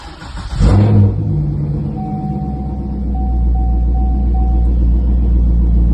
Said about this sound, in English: he sent me a video of the car starting up, and it's amazing